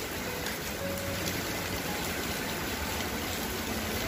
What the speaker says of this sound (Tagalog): Ugong talaga yung ulan.